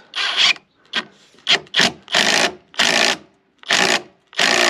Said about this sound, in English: That's a 7/8 paddle bit through a 4x.